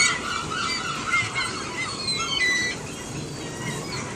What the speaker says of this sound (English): Too many seagulls.